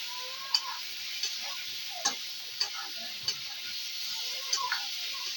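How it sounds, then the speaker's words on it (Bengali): Food frying in a pan for potato dum, a soft steady sizzle with a series of sharp, evenly spaced spatula taps and scrapes against the pan, close and fairly quiet. "তারপরে এটাকে একটুক্ষণ ভালো করে নাড়াচাড়া করা হচ্ছে।"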